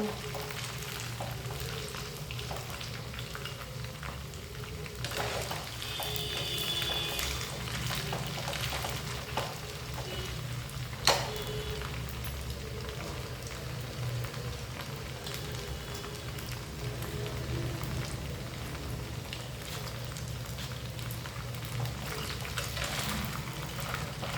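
Rice pakodi fritters fry in hot oil in a pan, giving a steady, close, rain-like sizzle with small pops and an occasional stirring clink throughout.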